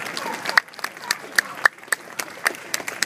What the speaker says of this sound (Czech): Můžete mu zatleskat, že to tak dlouho vydržel bez hodinek.